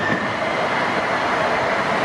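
A Sound Transit light rail train passes Shoreline North 185th station, a loud, steady broadband rumble and rush of wheels on rail, close and continuous, with no talking.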